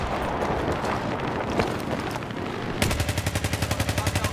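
Gunfire in a video game shooter set around Noshahr Canals: dense crackling shots at first, then a loud, rapid automatic burst with evenly spaced pulses near the end, with no talk.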